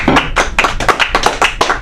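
Audience at a comedy show clapping in a quick burst, a handful of sharp, close, uneven claps ringing out one after another with no talk over them.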